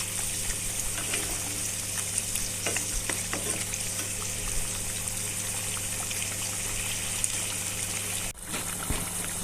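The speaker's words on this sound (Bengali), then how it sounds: "মাছগুলি দেওয়ার পরও ভালো করে আর একটু ফোটাতে হবে।" Fried fish pieces simmering in a yogurt-based Bengali curry gravy, doi katla: a steady bubbling sizzle with faint stirring clicks and scrapes, close and continuous, no talking.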